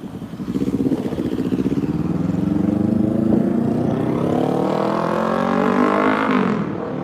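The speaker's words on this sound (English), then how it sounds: "Here comes a motorcycle." A motorcycle passing along a town street, its engine note loud and close, rising steadily in pitch as it accelerates past with a throbbing exhaust.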